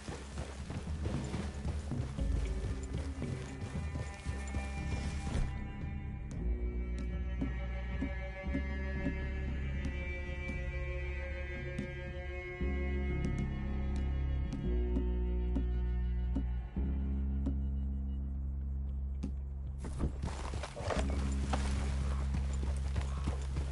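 Horses' hooves clip-clop steadily at a walk over a continuous musical background, the rhythmic clopping persisting throughout.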